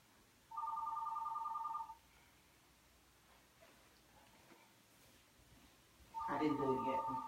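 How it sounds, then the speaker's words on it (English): A telephone rings twice indoors: a short trilling electronic burst, a pause with quiet room noise, then a second ring overlapped by louder rustling or handling noise at the end. "I'm trying to stop this phone from"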